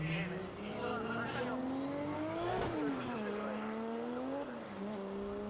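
A JCX 100 drift car, number 618, accelerating into a drift at the Fuji circuit during a Formula Drift Japan qualifying run: the engine note climbs, dips and climbs again under a commentator's voice, with a brief sharp burst midway.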